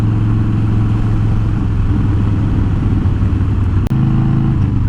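A motorcycle rides along a road, its engine droning loud and steady close to a helmet-mounted GoPro mic, with wind rush and one brief bump near the end.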